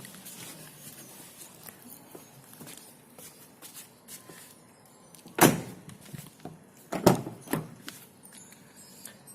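A 2014 Toyota Vios E car door opens with two solid clunks of the latch and hinge, against quiet background shuffling.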